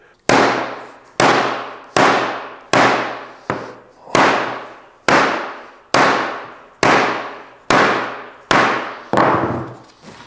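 Eleven sharp, loud whacks of a hammer on hard real-wood flooring land at a steady pace about a second apart, each hard crack ringing out briefly before the next strike.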